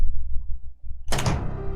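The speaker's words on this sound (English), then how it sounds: "when you're opening the door and you do a perfect door skip" A door opens in the Resident Evil 3 video game, starting with a quiet rumbling lead-in and then a sudden loud creaking swing that rings out to the end.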